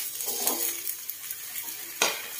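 Onion flower stalks being stir-fried in a wok, with a steady close sizzle, a few scrapes of the spatula and a sharper clatter toward the end, no voices.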